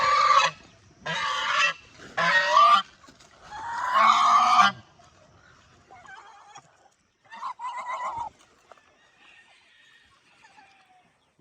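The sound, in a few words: goose honking while eating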